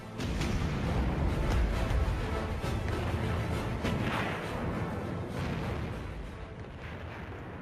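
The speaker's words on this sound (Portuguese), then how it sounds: "Este filme alemão mostra os enormes canhões de 381 milímetros do Bismarck disparando contra o Hood" Heavy booming blasts of the battleship Bismarck's 381 mm guns firing in succession at HMS Hood, deep rumbling reports echoing over a roaring, noisy background, no speech.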